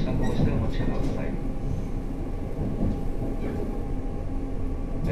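Onboard running noise of a 485 series Hana train set, a constant, loud rumble of wheels and rails with a low, dense roar that continues steadily throughout.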